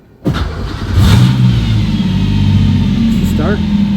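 A Subaru EZ30R flat-six swapped into a Porsche 911 cranks briefly, then fires and catches, settling into a loud, close, steady run with a rising rev near the end.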